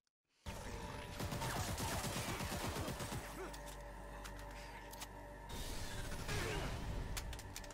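Gunfire erupts in the Cyberpunk Edgerunners anime, a dense, loud spray of rapid shots and mechanical rattling that stops abruptly, then resumes with another clattering volley under a low rumble.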